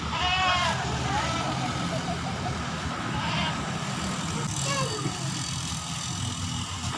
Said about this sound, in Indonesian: Ya, kambing.